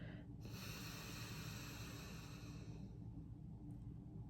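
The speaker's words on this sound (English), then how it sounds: "gently close off the right nostril and release the left so that you can exhale" One exhale pushes out through a single nostril during alternate nostril breathing, a close, breathy hiss lasting a few seconds before it fades into quiet.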